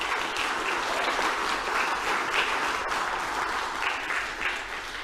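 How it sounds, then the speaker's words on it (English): An audience at the ACT Australian of the Year Awards gives steady applause for finalists, a dense, even wash of clapping that tapers slightly at the end. "Ladies and gentlemen, please give them another round of applause."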